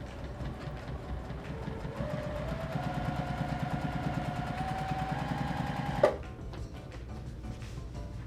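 A sewing machine running continuously, stitching binding onto a quilt, its rapid even needle chatter rising slightly in pitch before stopping abruptly with a clunk, then a quieter background hum; no talking.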